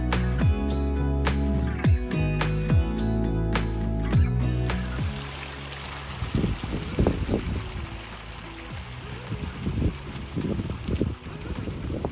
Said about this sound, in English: You can just hear the water lapping on the shore.